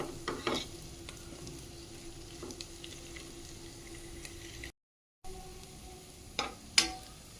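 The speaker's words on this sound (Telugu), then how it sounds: "ఆనియన్ అనేది ఈ విధంగా ఫ్రై అయిపోవాలండి ఇలా గుజ్జులాగా అయిపోతుంది" Onions fry in a pan for an egg onion curry with a soft, low sizzle and occasional sharp scrapes and taps of a spoon, close and quiet, with a brief gap of silence partway through.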